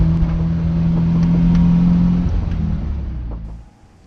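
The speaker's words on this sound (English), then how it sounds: "The car runs" A Nissan 240SX coupe engine runs loudly and steadily with a low drone, then winds down and fades near the end.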